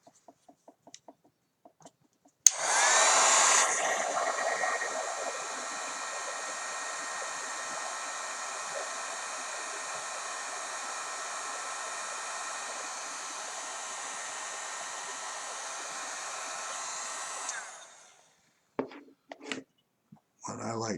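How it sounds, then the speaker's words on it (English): A heat gun blows steadily for about fifteen seconds with a loud broadband whoosh, shrinking heat shrink tubing on a NEMA 23 stepper motor plug, followed by faint handling noises. "That's why I really like this heat gun."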